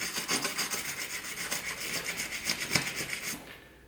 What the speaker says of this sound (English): Next thing on our list, soft bristle nylon brush.